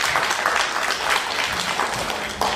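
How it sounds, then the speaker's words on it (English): An audience applauding at a talk on care work at a book fair, a dense, loud wash of clapping that holds steady throughout with no speech over it. "Thank you for the applause."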